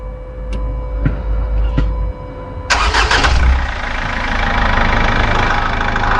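A Chrysler PT Cruiser engine cranks over and catches, then settles into a steady idle, heard close up after a low background hum and a few clicks.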